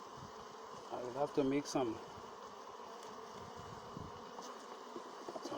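Honeybees hum around open hive frames in a low, steady buzz, rising briefly as insects pass close, while someone talks quietly over the drone.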